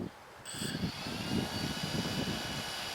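Quadcopter motors of a DJI Phantom Vision+ drone arming and spinning up, a steady whirring hum that starts abruptly and then holds at a constant level, close by and heard alone.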